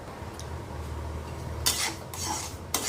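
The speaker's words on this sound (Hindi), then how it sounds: "ये सूजी भून रही है" Semolina is roasted and stirred in a pan for halwa, heard as a low steady hum followed by a couple of close, raspy scraping strokes of the spoon against the pan.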